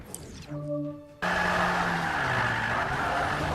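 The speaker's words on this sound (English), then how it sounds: "We're going to go in for the hard fucking drift" A car drifting in the Forza 5 racing game: engine revs climb in stepped tones, then a loud, sustained tire squeal cuts in and holds over the engine noise, close and prominent with no talk.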